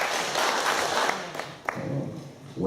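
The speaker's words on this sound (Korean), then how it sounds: "우리 예수님께 박수 한번 다시 한번 합시다." Applause from a large audience at a church-hosted investment business presentation in a 31st-floor convention hall, a dense wash of clapping that thins and fades toward the end, with a few louder isolated claps.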